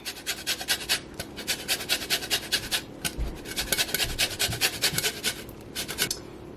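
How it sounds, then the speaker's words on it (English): Repeated rasping strokes of a handheld zester across a lemon's peel, a steady close scraping rhythm of about a dozen quick passes with brief pauses, no voices. "So I'm gonna go ahead and zest this lemon."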